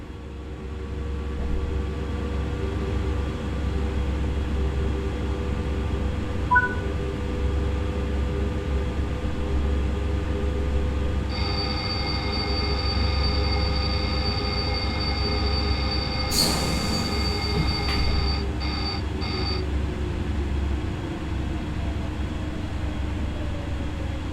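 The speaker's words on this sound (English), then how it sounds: "Exceed the speed limit again and wait for the train to enforce emergency braking." Emergency braking of a Dutch train on the Zwolle–Groningen line in Train Sim World 5: a steady rumble of rolling wagons with a long wheel squeal, a sharp burst of brake hiss midway, then continued grinding.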